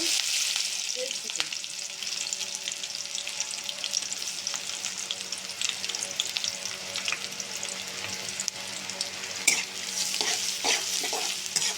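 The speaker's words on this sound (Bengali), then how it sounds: "পেঁয়াজটা ভালো করে বেজে নেব" Onion sizzles steadily in hot oil for a long stretch, with occasional scrapes and clicks of a spoon stirring against the pan.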